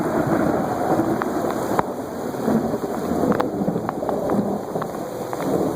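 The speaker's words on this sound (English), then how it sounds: "I think the rain is coming down a little bit." Heavy rain pours steadily during a thunderstorm with flash flooding, a dense close wash of rainfall with occasional sharp drop impacts and low rumbling underneath.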